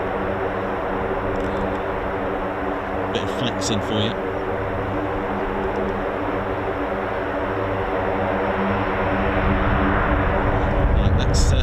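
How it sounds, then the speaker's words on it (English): Lockheed MC-130J turboprop engines on a ground run, a loud continuous propeller drone with a steady harmonic hum that swells slightly toward the end, while someone talks close by. "MC-130J, which is those engines that you can hear."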